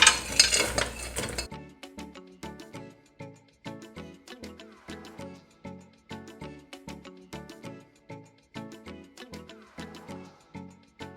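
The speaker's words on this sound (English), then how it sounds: "Add in the mixed vegetables." Mixed vegetables stirred in a pot for Liberian jollof rice: a brief noisy tumble as they go in, then steady rhythmic scraping strokes of a spoon, about two per second, with no talking.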